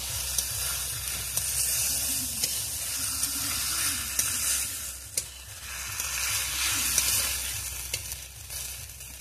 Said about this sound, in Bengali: আলুটা দিয়ে দেবো, ভালো করে কষিয়ে নেব।